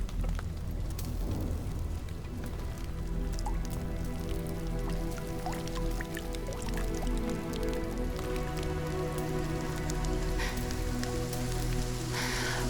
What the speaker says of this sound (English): Is this rain?